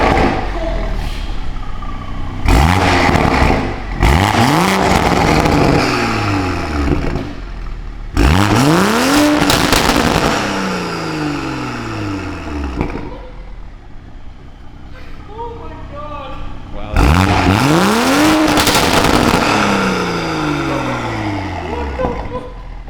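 Toyota A91 Supra with a VRSF downpipe exhaust, revved repeatedly in bursts, each rising to a loud roaring climb and falling back to idle, close by, with people talking between revs.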